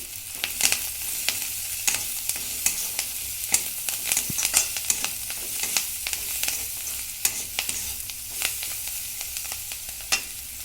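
Onion and seasonings frying and stirred in a pan for a butter garlic chicken dish, a continuous sizzle broken by regular spatula scrapes and taps on the pan, with no talk.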